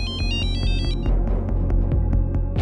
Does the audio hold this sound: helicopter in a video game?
no